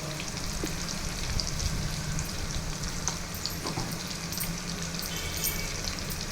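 Ingredients fry with turmeric and salt in a pan while cooking Chennai-style katte pongali, giving a close, steady crackling sizzle throughout with faint stirring ticks and no talk.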